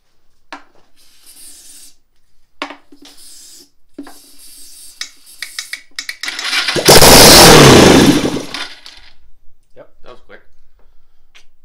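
A Suzuki GS450 motorcycle with a freshly swapped coil cranks with scattered clicks and rasping starter noise, then catches into a loud roaring burst for about two seconds before dying back to quiet mechanical noises, with people talking intermittently.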